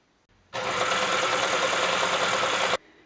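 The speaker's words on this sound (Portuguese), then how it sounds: "vou dobrar aqui, vou encontrar direito com direito e vou passar a costura" A sewing machine runs steadily for about two seconds, stitching a seam along folded fabric with right sides together. The whirring starts abruptly, holds an even loud buzz close up, then stops cleanly, with no talking.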